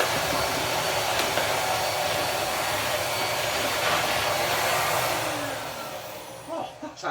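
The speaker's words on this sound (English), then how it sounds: "Do our best of holding the vacuum in one hand and cleaning in the other." Hoover Portapower S1248 portable vacuum cleaner running, a loud, continuous broadband whoosh that holds steady for several seconds before cutting out near the end, with no talking.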